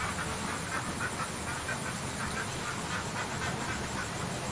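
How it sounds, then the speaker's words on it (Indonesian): A duck quacks repeatedly in the distance outdoors near fishing water, its faint calls sitting under a dense, steady wash of wind or water noise. "ada bebek di sana, bro."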